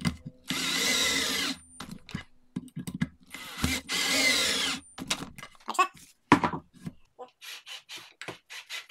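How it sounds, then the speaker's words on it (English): A power drill drives pocket-hole screws into wood in two sustained whirring bursts, close and fairly loud, followed by scattered knocks and handling noises. "The good thing about putting three screws in with the pocket holes is that you can then rotate it once you've got it in to be square"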